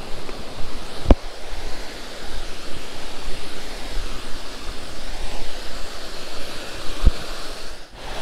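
Mountain creek water rushing over rocks in a steady, loud broadband roar, with a couple of sharp knocks near the microphone along the way.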